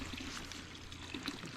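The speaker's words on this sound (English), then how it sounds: "Oh, it's just a spring." A forest spring along a hiking trail trickles and pours steadily, a soft continuous watery wash heard close by with a few small splashy accents, no voices over it.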